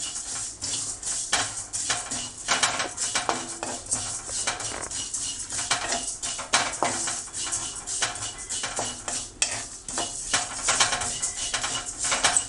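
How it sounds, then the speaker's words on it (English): Fennel and cumin seeds roasting in a pan for homemade sambar powder: a dense, quiet patter of ticking and light scraping as the seeds are stirred and shifted against the metal, with no talking. "These two ingredients I'll just roast it."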